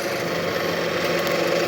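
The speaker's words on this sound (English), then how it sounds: "drilling that through like so" A power drill runs steadily while boring through a front fender mount on a Harley-Davidson Dyna chopper, a continuous close mechanical whine and hum with no pauses.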